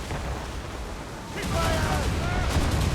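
Naval cannons firing in the 2014 game Assassin's Creed Rogue: a loud broad blast arrives about halfway through and rings on under a steady roar of battle noise, with faint voices in the mix.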